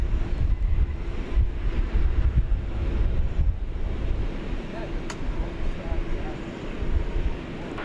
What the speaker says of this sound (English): Wind is picking up just a bit here.